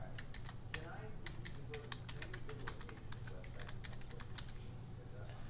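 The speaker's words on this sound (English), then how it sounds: "And then I can just quickly start typing out my email here." Rapid, uneven keystrokes on a computer keyboard as an email is typed, a quiet steady patter of clicks over a low hum, heard up close.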